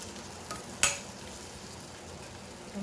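Spicy Hyderabadi masala eggplant is stirred in a pan, a quiet, steady sizzle with one sharp scrape or clink near the start.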